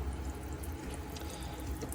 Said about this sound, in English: you will then have water pressure at your tap